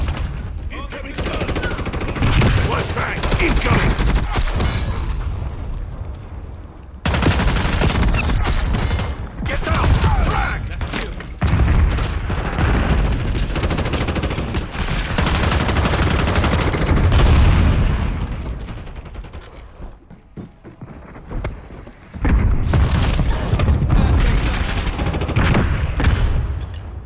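Gunfire and a flashbang go off in a video game firefight, with bursts of loud shots and booms in dense clusters separated by brief lulls, while voice lines play over the action.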